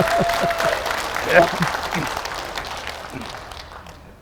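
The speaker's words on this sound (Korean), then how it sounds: "상 많이 받아서 박수 한번 쳐야 되는 거 아닙니까?" Audience at a parliamentary report meeting in Yeongju clapping, a moderate round of applause mixed with murmuring voices that gradually fades away.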